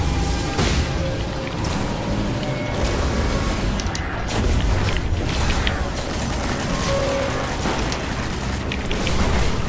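Booming explosions and mechanical clanks fill a Destiny raid battle in the Vault of Glass, loud and dense with repeated heavy blasts and rattling debris throughout.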